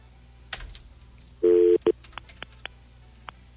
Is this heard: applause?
no